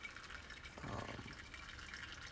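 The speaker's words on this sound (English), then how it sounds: "I think that it gives a fairly nice, even distribution of water through the coffee grounds" Water trickles and splashes faintly from a camper kitchen water tank spout onto pour-over coffee grounds, a soft, steady flow with a brief fuller gush.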